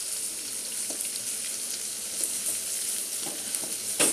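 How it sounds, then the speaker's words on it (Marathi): Chopped onions frying in oil in a pan for a village-style egg masala, a steady close sizzle with occasional crackles and spatters. "कांदे चांगले आपण फ्राय करून घेऊया"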